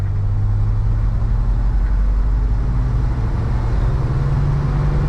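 A 1988 Dodge Ram B250 Safari van accelerating from a stop, its engine a steady, loud low drone from inside the cabin, rising slightly in pitch with no talk.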